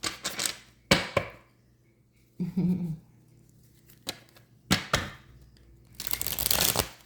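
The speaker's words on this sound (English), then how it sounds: "We're going to shuffle these cards 5 times." Tarot cards are shuffled in several separate bursts of riffling and slapping, crisp and close, with short quiet gaps between them.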